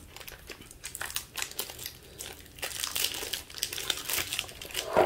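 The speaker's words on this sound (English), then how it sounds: "I'm gonna open up my sausage. These easy peels never work for me." An easy-peel sausage package is pulled open with a burst of crinkling, tearing plastic sounds, close and fairly loud, crackling in irregular bursts with no talk.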